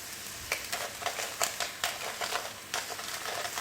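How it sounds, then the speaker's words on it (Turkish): Ground meat frying and being stirred in a pan, about 100 grams of mince, with a steady sizzle broken by repeated scraping strokes, close and fairly quiet, no talking. "kıymayı tavada kavuruyoruz"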